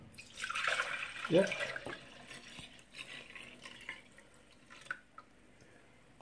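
Homemade apple cider poured back into a container, a splashy liquid stream followed by scattered drips, close, with a brief spoken word and light handling noise.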